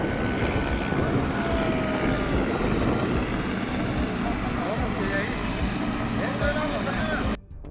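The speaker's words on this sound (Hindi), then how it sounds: "अचानक दूर से हेलीकॉप्टर की आवाज गूंजने लगती है।" A helicopter flies overhead above a village in Madhya Pradesh before landing in a field, giving a loud, steady rotor and engine roar that fills the scene, with someone speaking over it.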